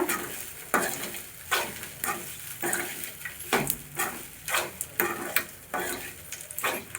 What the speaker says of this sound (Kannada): ಈ ಥರ ಸರಿಯಾಗಿ ಮಿಶ್ರಣ ಮಾಡ್ಕೋಬೇಕು